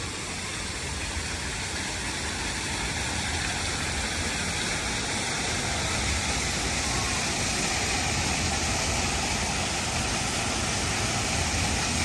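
A waterfall among pumpkin displays at Knott's Scary Farm gives off a steady, dense rushing roar, unbroken and fairly close, with no voices.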